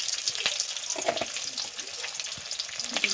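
Green and red chilies, a bay leaf and whole black cumin frying in hot oil, a steady close crackling sizzle with a few sharp pops throughout.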